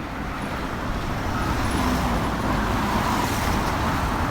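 Road traffic in Yangon, Myanmar, heard as a continuous dense rumble of cars and buses moving along a busy street, steady and moderately loud with no distinct pass-bys.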